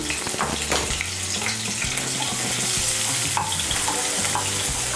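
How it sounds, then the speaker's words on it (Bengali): Grated ginger and chopped green chili fry in hot oil while aloo chop is being made, giving a continuous sizzle with scattered crackles and a few spoon stirs, close and fairly loud. "আদা আর কাঁচা লঙ্কাটাকে একটু ভেজে নেব"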